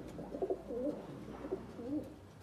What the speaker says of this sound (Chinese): 你看这个小鸽子现在很能飞了，直接上到最高的栖架